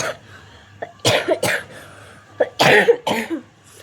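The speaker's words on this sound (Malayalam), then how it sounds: "കുറച്ച് ചുമയാണ്" Several harsh coughs in two bursts, close and fairly loud, with brief pauses between them and no talking.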